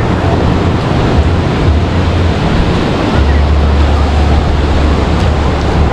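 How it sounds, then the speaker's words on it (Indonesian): High ocean waves roll at Pulau Merah beach in Banyuwangi, a loud continuous roar of surf with heavy wind buffeting the microphone and faint voices under it. "Ombaknya tinggi banget ya"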